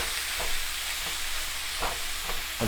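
Ground beef sizzles and crackles steadily in a hot skillet, with a few scraping spatula stirs breaking through the constant hiss.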